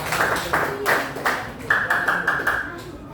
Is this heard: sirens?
no